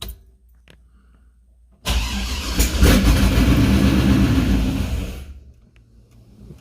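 A cammed 6.0 LS V8 with an Edelbrock Pro-Flo EFI harness fires for the first time: after a quiet lead-in, the engine catches abruptly, runs loud and rough for about three seconds, then winds down and falls silent.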